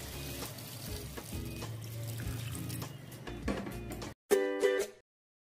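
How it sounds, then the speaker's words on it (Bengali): Water is poured into a pot of village-style chicken curry, a short splashing pour that ends with a brief louder plop. "তো এবার আমি জল দিয়ে দেবো।"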